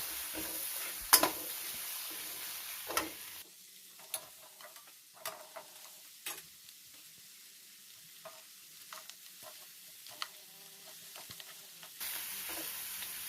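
Mama instant noodles being stir-fried with oyster sauce, sugar and chilli flakes, a spatula scraping and stirring in a sizzling pan with repeated clacks against the metal over a steady frying hiss.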